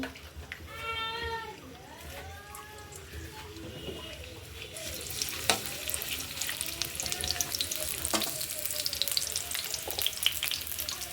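Onions frying in a pan for a prawn malai curry, a low sizzle that grows louder and crackles as they hit the hot oil, with a voice talking over the start.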